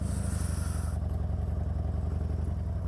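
A motorcycle rides a bumpy dirt road near the Chuviscar in Chihuahua, with a steady, close engine drone mixed with rattling and scraping from the rough surface and no voices.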